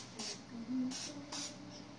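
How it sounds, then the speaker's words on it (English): Shaken can of cooking spray sprayed onto a hot plate, three short hissing bursts spaced evenly, faint and close, with a soft rattle between them. "Shake and spray. Shake and spray"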